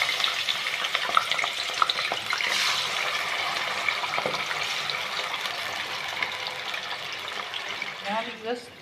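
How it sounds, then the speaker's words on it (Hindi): Marinated chicken for Balochi tikka goes into hot oil in a pan and sizzles in a steady, fairly loud hiss, with a few soft clatters of stirring as it settles, then thinning near the end. "हमने पैन में ऑयल डाल के गरम कर लिया है। तो अब जो चिकन है हम पानी से निकाल के इसमें शामिल कर देते हैं।"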